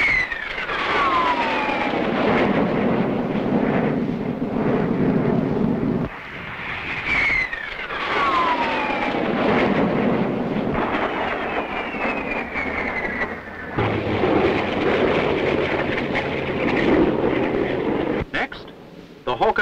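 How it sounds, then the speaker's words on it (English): A de Havilland Vampire jet flies aerobatic passes overhead. Its loud, continuous roar rises and falls with sweeping pitch changes as it approaches and recedes, dropping out briefly between passes. "Here comes the Vampire. Some expert aerobatics by John Derry"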